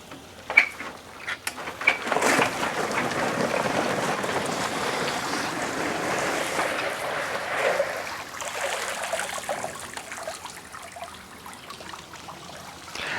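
A pool cover roller beside a pool is wheeled and cranked, producing a broad rushing, watery swish with a few sharp knocks at the start, moderately close and without talk.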